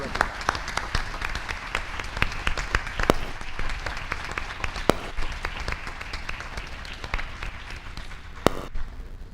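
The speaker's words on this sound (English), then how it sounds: "Please help me give a big round of applause to Ms. Carson" Applause at a county board of education meeting as an award winner is called up, with scattered sharp individual claps over a steady crowd clapping and a little background murmur.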